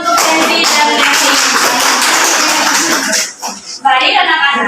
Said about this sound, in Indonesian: coba tepuk tangan dulu untuk Kenzi dan Dewi